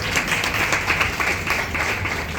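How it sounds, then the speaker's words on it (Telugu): A group claps at a Telugu church gathering, a steady, fairly loud patter of many hands that goes on without pause, with no voices over it. "చప్పట్లు కూడా వేసేది"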